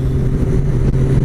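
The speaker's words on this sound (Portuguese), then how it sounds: "Cara, esse motor dela é uma delícia, mano." Honda Gold Wing six-cylinder boxer engine running on the motorcycle, a smooth, steady low rumble held close and loud without a break, with no talking over it.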